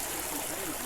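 Water cascades down a small garden water feature at Alnwick Castle Gardens, a steady close rush and babble that lasts under a second.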